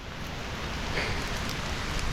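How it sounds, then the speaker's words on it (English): Rain falls steadily in Laos, a soft, even hiss of drops on surfaces with no voices, close and unbroken for a short stretch. "And it's finally started to rain."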